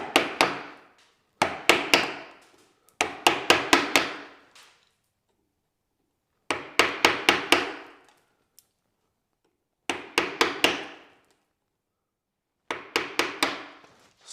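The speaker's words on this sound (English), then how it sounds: "using the chisel with the bevel down first, we're going to come in onto this joint and remove the bulk of the" Chisel, bevel down, chopping out a joint in a wooden chair part: sharp clusters of three to five mallet-driven strikes come in bursts separated by silent pauses, close and loud with no talk.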